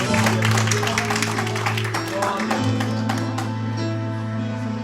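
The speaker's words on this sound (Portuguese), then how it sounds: "Dê um aplauso a Jesus." Dense congregation clapping at a church service that fills the whole stretch, loud and sustained, over a sustained organ-like musical tone.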